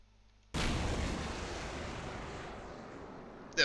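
A ship's gun turret fires in the game Space Engineers: one sudden heavy boom that rolls out into a long, fading rumble, close and loud, with a second blast starting at the very end.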